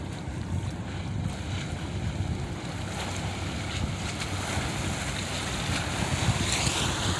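Wake waves from a passing oil tanker wash ashore at Juan Seguin Historic Park on a bay, a continuous close surging wash mixed with wind buffeting the microphone, no voices.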